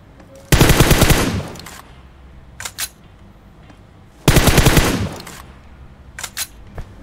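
Two loud bursts of automatic gunfire in PUBG Mobile, each about a second of rapid shots, followed by a few fainter distant shots, with quiet game ambience between.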